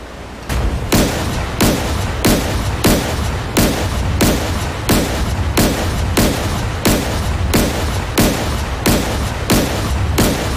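A Type 052B destroyer's naval guns fire at maximum range in DCS World, loud booming shots repeating at a steady, even pace, one roughly every half second, with no talk over them.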